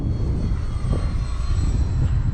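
An E-flite Valiant RC model airplane flies in gusty wind of about 10 mph, its engine giving a steady, continuous drone at moderate distance.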